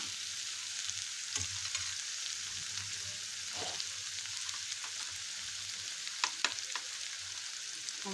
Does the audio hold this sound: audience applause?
no